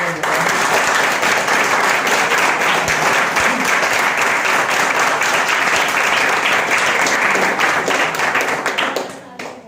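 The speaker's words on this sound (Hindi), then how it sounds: "जिनको मेरी बात समझ में आई तो जोरदार तालियां।" Loud, sustained applause from a seated audience at a business meeting, dense clapping filling the whole stretch and tapering off at the very end.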